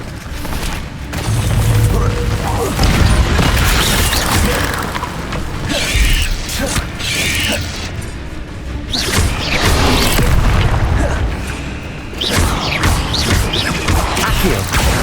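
Expelliarmus spell impacts in Hogwarts Legacy combat: loud, dense booms and crashing bursts pile up in waves over about fifteen seconds, with clattering mechanical hits and dense action noise throughout.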